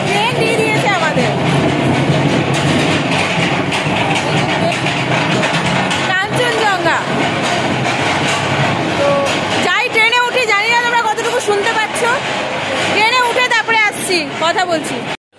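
Train noise at Sealdah railway station in Kolkata, a steady loud rumble and clatter of a waiting or moving train with station bustle, while people talk over it throughout.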